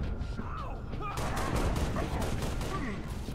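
Gunfire in the video game Halo Reach, a dense, continuous fusillade of rapid shots rattling throughout at close range, with game sounds layered in and voices talking over it.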